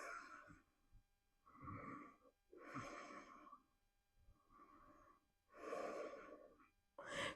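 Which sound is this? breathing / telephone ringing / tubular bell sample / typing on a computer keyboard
breathing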